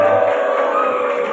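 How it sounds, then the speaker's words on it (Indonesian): Students in a junior high school classroom give a classmate a short burst of applause, mixed with cheering and crowd noise, loud and close, lasting about a second and a half. "Tepuk tangan itu Mas Safir."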